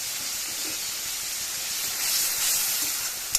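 Tomatoes cooking in oil for tomato bath (tomato fried rice) give off a steady, fairly loud hissing sizzle that swells slightly toward the end, with a brief sharp tick at the close.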